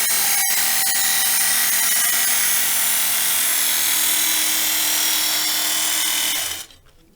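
A Work Sharp knife sharpener grinds along a knife edge in one continuous, loud, high-pitched abrasive whine lasting several seconds, then the motor cuts off and spins down to quiet.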